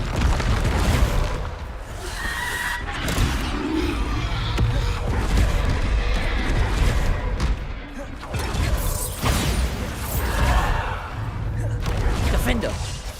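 The Bombarda explosion spell in the video game Hogwarts Legacy goes off repeatedly in booming blasts, one after another through a dense, noisy combat scene, with some talk in between.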